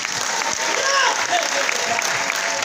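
Steady applause from a church congregation during a worship testimony, a continuous patter of clapping with voices mixed in.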